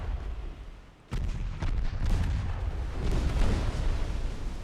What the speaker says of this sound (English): That's 5 out of 6 torpedo hits, and that's good night for Stromboli